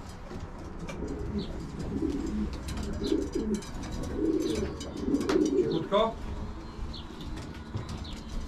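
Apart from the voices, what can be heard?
pigeons cooing in a loft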